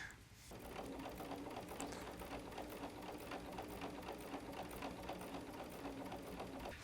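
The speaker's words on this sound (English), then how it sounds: "Go ahead and sew it all the way off." A sewing machine stitches quilt four-patches in a steady, even mechanical chatter that runs continuously and fairly quietly after a brief start.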